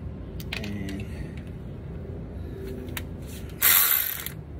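Socket ratchet working on a front caliper bolt of a 2001-2006 Honda Civic, quick clicking ratchet bursts near the mic, then a louder metallic clatter near the end.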